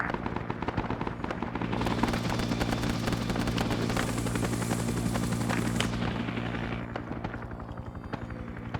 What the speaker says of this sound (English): Choppers landed over on this rock.